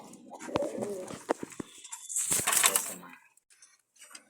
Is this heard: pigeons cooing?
yes